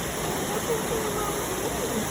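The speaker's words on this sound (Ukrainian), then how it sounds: "тут дуже так затишно і гарно. Маленький водоспадик." A small waterfall in a quiet forest, a steady soft hiss of falling water filling the background, with a voice faintly speaking over it.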